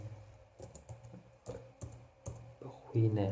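Someone types on a computer keyboard with light, irregular key clicks in short bursts, close by, with a voice talking briefly near the end.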